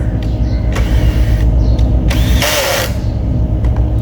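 Power drill driving a screw into a board during carpentry work on a decorative board, a steady loud whirring motor with short bursts and a brighter rising whine near the middle, no talk.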